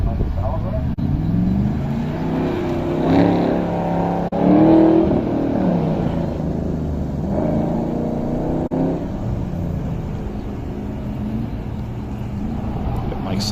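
A Z28 Camaro running an SCCA autocross course, its engine droning and rising as it accelerates through the run, heard from trackside with someone talking over it throughout.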